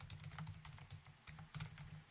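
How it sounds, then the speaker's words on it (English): Computer keyboard typing in quick irregular bursts of key clicks with short pauses, close and clear with no talking. "I'm sorry for typing."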